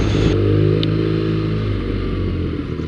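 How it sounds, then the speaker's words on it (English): A BMW R nineT motorcycle with stock exhaust rumbles at low RPM in fourth gear, giving a deep, steady, throbbing engine note close to the mic with no talk. "it's got a pretty good note for stock exhaust."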